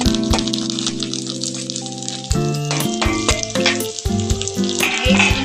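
Chivda being tempered and stir-fried in a pan with turmeric, salt, chilli powder and coriander, heat turned off: continuous close sizzling and frying with rattling stirring strokes and scraping throughout, no voices.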